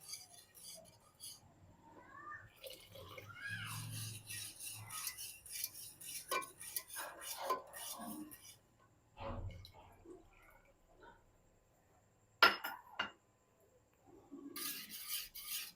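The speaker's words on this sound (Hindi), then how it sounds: "इसी तरह से थोड़ा थोड़ा ऐड करते जाना है और विस्कर की मदद से इसको हिलाते जाना है।" Custard mixture for banana custard being whisked in a pan, a close, quiet raspy scraping and rubbing in irregular bursts, with brief metallic clinks and pauses between strokes, no talking.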